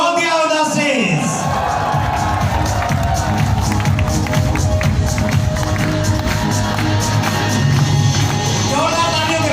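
A large audience at a direct selling network marketing meeting gives loud, sustained applause and cheers. The clapping continues throughout, and a voice speaks over it.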